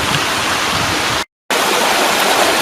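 Steady rushing water of a stream flowing past eroded, landslide-prone banks with fallen trees, a continuous broadband wash interrupted by a brief gap of silence.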